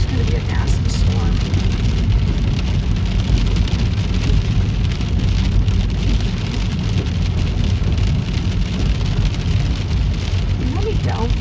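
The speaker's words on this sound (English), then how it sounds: "it's gonna be a nasty storm." Heavy rain from a severe thunderstorm pounds steadily and loudly, a dense continuous roar with faint rumbling beneath, heard from inside a vehicle.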